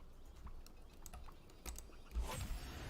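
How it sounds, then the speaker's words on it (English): Clicky mechanical keyboard typing in uneven bursts of sharp keystrokes, close up, with a few heavier thocks near the end. "I have a mechanical keyboard, so it's loud"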